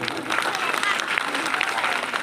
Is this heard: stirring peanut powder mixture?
no